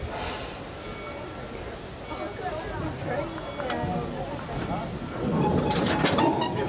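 The Busch Gardens tour train in Tampa, Florida rolls along its tracks with a continuous low rumble and light rattling that grows louder toward the end, with faint voices in the background.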